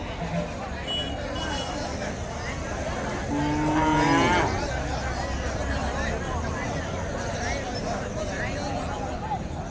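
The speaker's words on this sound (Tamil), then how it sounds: "ஃபுல்லாக எல்லா பசுமாடுங்க கிடாரிங்க எல்லாமே வந்து இன்றைக்கி வந்து நிறையா கட்டியிருக்காங்க" Cows and heifers mooing at a village native-cattle market in Tirupattur district, with one long, loud low moo standing out over constant crowd babble, talk and market noise.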